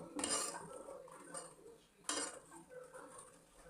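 Jaggery sugar being mixed into milk in a pot for milk laddu: two distinct metallic spoon scrapes and clinks against the pot with soft stirring between them, quiet and close.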